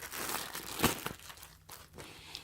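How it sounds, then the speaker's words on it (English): Plastic packaging for pajamas crinkles and tears close by, with a sharp rip near the start followed by softer rustling and crumpling that fades toward the end. "I already ripped the bag open"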